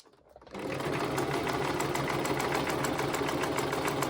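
A sewing machine stitching on paper starts up after a brief quiet moment, then runs in a fast, steady mechanical whir and rattle, close and continuous to the end.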